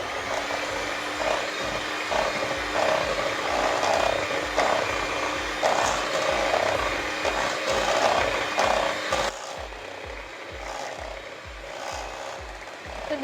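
Eggs and vanilla essence are beaten by hand with a whisk in a bowl, making rapid, rhythmic scraping strokes close up that continue steadily without talk.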